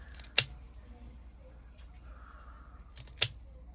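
Fiskars left-handed scissors make two crisp, brief snips about three seconds apart, close and fairly quiet against a soft room background with no talking.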